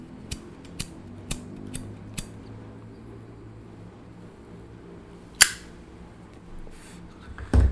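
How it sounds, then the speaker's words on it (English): A lighter clicks five times in an even run while someone lights a cigarette, followed by a sharper snap and a few softer rustles and clicks, close and crisp against a quiet room. "I was trying to light a cigarette."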